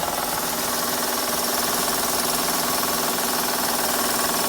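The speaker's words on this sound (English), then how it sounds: "that noise you hear is my timing belt tensioner" A rapid, steady mechanical ticking and rattling from a Honda Odyssey's timing belt tensioner on a running engine, continuous and loud, with no talking.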